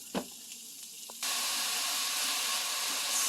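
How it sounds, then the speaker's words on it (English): Meat browning in a pan for pasta manicotti, a steady close sizzle that kicks in abruptly after a few faint clicks and then hisses evenly to the end. "So the meat is browning"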